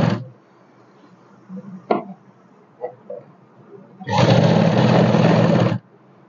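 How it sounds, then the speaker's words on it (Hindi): A sewing machine stitches a ladies' suit, a loud steady whirring run of about one and a half seconds after a few soft handling clicks and thumps. "इसके ऊपर अब हम लगाएंगे एक सिलाई"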